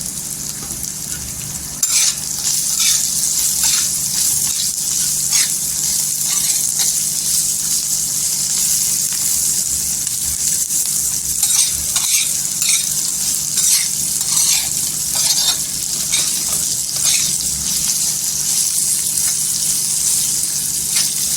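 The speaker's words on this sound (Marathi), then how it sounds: "पूर्णपणे मिरच्या बघा छान अशा तिलावर परतून घेतलेले आहेत" Green chillies for Maharashtrian mirchi thecha sauté in oil with a loud, continuous sizzle, broken by repeated scraping stirs and crackles, steady from start to finish with no talking.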